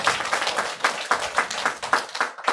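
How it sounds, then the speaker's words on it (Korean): Applause from a church congregation, with clapping in a rhythmic, roughly even beat of distinct claps, close and moderately loud, fading at the very end. "하나님께 감사와 영광의 박수 한번 올려드릴까요?"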